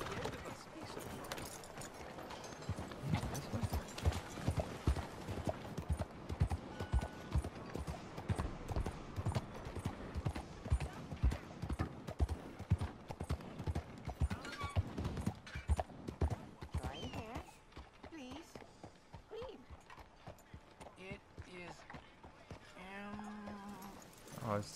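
Horse hooves clip-clop at a steady walking pace in Red Dead Redemption 2, fairly faint under ambient game sound and occasional talk, fading out near the end as other voices take over.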